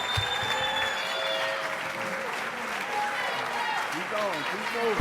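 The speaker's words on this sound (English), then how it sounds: "How about a big round of applause for all of them?" Applause from an audience at a jazz saxophone competition, a steady wash of clapping at moderate level with music and voices faintly underneath, lasting about five seconds and ending on a sharp thump.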